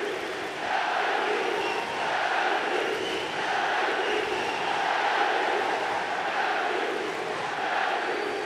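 Boxing arena crowd at an Olympic men's light final bout roaring and cheering wildly in a sustained, surging wall of noise, with waves of shouting swelling and easing throughout.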